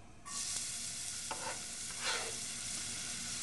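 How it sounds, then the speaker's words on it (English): Onion sautéing in extra virgin olive oil for Italian tomato sauce, a loud continuous sizzle with occasional spoon scrapes and stirring swells. "we'll saute the onion until about a minute or two, until it becomes translucent"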